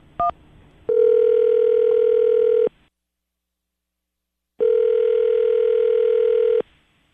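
A telephone rings out on a radio call: a short dial blip, then two long, steady ringback tones separated by a pause, loud and clean with no talk.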